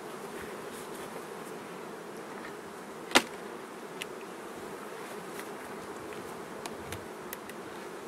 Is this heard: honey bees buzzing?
yes